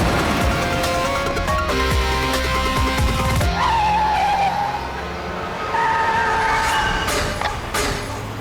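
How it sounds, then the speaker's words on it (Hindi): A car driven erratically skids with loud, close tyre squeals and engine roar in a crime-drama chase scene, with several long screeches in succession and no talking. "ये गाड़ी ऐसे क्यों चला रहा है? ये तो एक्सीडेंट कर देगा।"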